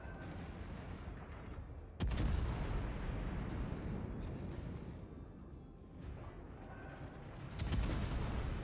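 Heavy warship naval guns firing in World of Warships, two loud booming salvos with long rumbling tails over a constant low battle drone, no voices.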